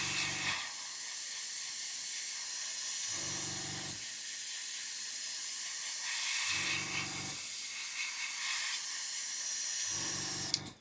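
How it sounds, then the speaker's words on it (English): An airbrush sprays its leftover paint back into the paint pot during an Airfix 1/48 Sea King model build. It gives a loud, steady airy hiss that runs almost unbroken, with brief pauses in the low rumble. "I'm going to empty the airbrush back into the paint pot"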